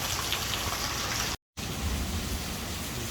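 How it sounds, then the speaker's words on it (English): Steady heavy rain pours during Hurricane Hilary in August 2023, a dense, even hiss filling the space around an apartment, briefly cut out by a moment of silence before resuming unchanged. "And it's raining, as you can see."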